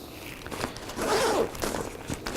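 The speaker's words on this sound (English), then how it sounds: "And on this side too, you have another zipper, I think, to open." A zipper on the side pocket of a Shimoda Explore camera bag is pulled open in a short scratchy rasp, close and fairly quiet, with a few light handling rustles around it.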